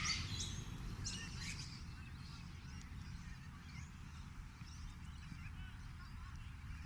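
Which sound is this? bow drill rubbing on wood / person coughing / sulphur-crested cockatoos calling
sulphur-crested cockatoos calling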